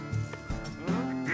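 Nasal quacking calls from ducks during a goose and duck hunt, several short honks scattered across a brief moment, mid-distance, with a rustle of movement in the background.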